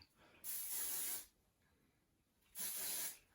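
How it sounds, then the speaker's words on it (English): Two short, light spritzes of hairspray onto hair, each a soft hissing burst under a second long with a pause between, close by and faint with no voices. "A little bit more hairspray. Really light little spritzers."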